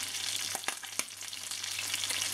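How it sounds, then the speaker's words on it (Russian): Fish frying in a pan at home, a steady close hiss and crackle of hot oil with a few sharper pops and utensil clicks, continuous and fairly loud, with no talking. "Ну, вот так обычно жарится рыбка."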